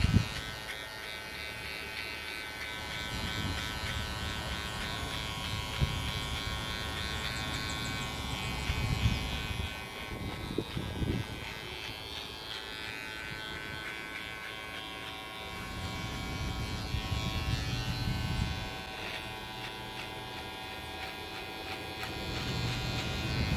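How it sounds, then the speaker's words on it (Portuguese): An electric hair clipper buzzes continuously while trimming hair during a groom's haircut, a close, steady hum whose pitch and strength shift slightly as it moves through the hair. "Vou filtrar na máquina para não tirar muito."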